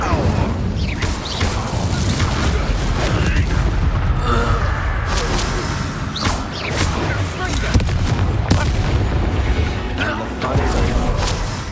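An Incendio fire spell is cast in Hogwarts Legacy combat, heard as a string of loud whooshing bursts and cracking booms over a constant rumble of battle, with a voice speaking partway through.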